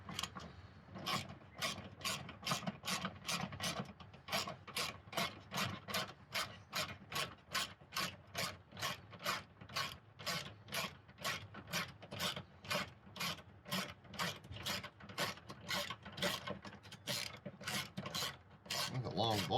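A hand ratchet loosens a long 10 mm bolt during a K&N cold air intake install on a 2012 Ford Mustang V6, clicking in a steady, even rhythm of about two strokes per second, close up and alone for the whole stretch.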